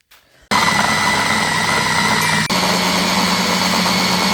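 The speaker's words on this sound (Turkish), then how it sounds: "Hepsini birden robotla çekiyorum." A food processor blends white cheese with salt and olive oil into a meze, roaring loud and steady for several seconds after a short quiet start, with one brief dip midway.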